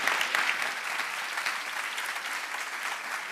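Audience applause for debate panelists at a debate night event, a steady, dense wash of clapping from a crowd that holds at an even level throughout without talk.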